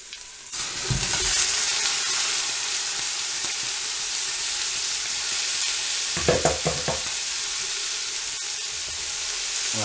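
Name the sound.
red cabbage frying with onions in a pan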